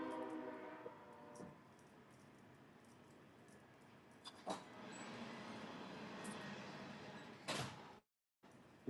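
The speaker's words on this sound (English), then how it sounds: "That is one loud train. We are right beside the railroad tracks." A loud train runs along the railroad tracks right beside the listener. It is heard as a faint, rolling rumble with a tonal horn-like hum early on and brief clanks, ending in a sharp cutoff.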